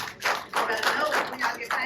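An audience claps in short uneven bursts for under two seconds, moderately loud, with some voices mixed in.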